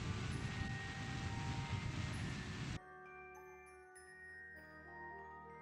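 Rocket engine throttled up in Kerbal Space Program gives a steady, loud roaring hiss for about three seconds, then cuts off abruptly and leaves only faint tones.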